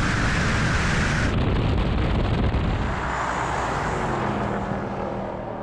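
Mercedes-AMG G63 and BMW X7 M50 accelerate side by side in a drag race, a loud, sustained roar of engines and wind that swells at launch, then eases into a broad rumble as the SUVs pull away.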